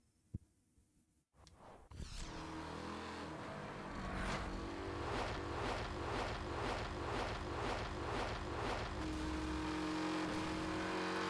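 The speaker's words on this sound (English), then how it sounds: "That's a knock noise." Car engine in the racing game Need for Speed Hot Pursuit, a loud continuous drone that surges after a brief lull, with a regular pulsing knock repeating through the second half.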